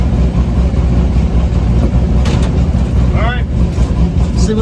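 Twin turbo LS swapped pickup truck with a poorly assembled Foxbody 8.8 rear end, engine rumbling steadily as it drives off, loud and close throughout, with voices talking over it.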